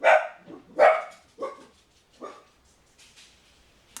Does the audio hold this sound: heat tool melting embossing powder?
no